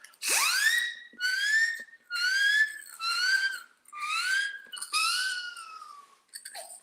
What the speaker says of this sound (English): So they're just little siren whistles, they're called.